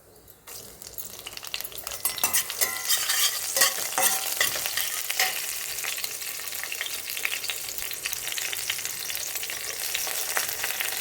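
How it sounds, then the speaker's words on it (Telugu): Cumin seeds, green chilies and curry leaves frying in hot oil for an okra fry, a dense close crackling sizzle that swells after a quiet start, with occasional light scrapes and clinks of a spoon in the pan. "ఇది వేడెక్కాక దీంట్లో జీలకర్ర, పచ్చిమిర్చి వేసేసి కొంచెం వేగాక కరివేపాకు కూడా వేసేద్దాం"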